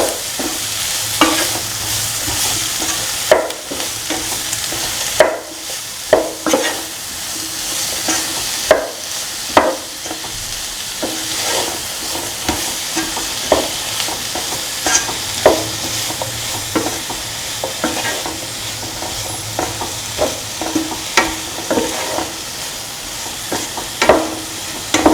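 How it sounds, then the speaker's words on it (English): Tomato being sauteed into a paste in a pan, a steady close sizzle with repeated scraping and stirring taps of a utensil throughout, no talking. "Keep on sauteing till the tomato becomes a nice paste."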